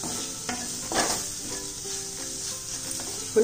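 Spices frying in hot oil for an okra dish sizzle steadily while a spoon stirs through the pan, adding a few soft scrapes and a sharper clink at the end.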